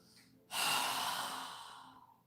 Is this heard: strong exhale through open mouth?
yes